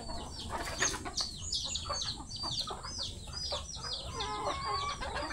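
Pet chickens cluck busily while feeding, a dense run of short overlapping clucks and calls from several birds close by, continuous throughout with no talk.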